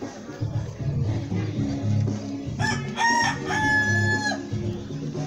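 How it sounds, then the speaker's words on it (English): A rooster crows loudly in one drawn-out call among ducks and other fowl on a farm, with clucking and a voice talking nearby. "It's another rooster."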